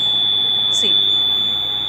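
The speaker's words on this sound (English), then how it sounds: "Now you can hear the buzzer sound coming." Electrical buzzer alarm triggered by short-circuited terminals, a steady continuous high-pitched tone sounding throughout, loud and close, with a brief faint knock partway through.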